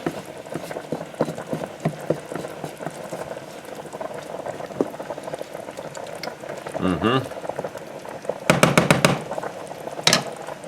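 A pot of spaghetti boils vigorously, bubbling and popping close by, while a utensil stirs through it with scraping, knocking and a burst of sharp clatters near the end.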